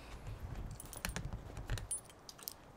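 Keys jangle and clink in a series of bright, irregular metallic rattles at close range while someone unlocks a studio door in Amsterdam Zuidoost.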